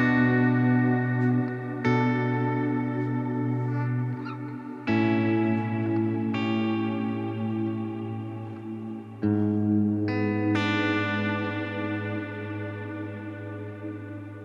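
Guitar played through a Boss GT-1000 set to a cloud-style reverb: sustained chords ring out in several strummed swells, each blooming into a long, washy, shimmering tail that lingers between attacks, with no talking.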